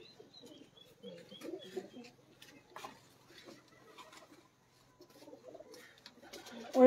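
Pigeons kept for flying in Punjab coo softly in a quiet setting. Several low, throaty coos come in short clusters, with a few faint extra calls and light background stirring.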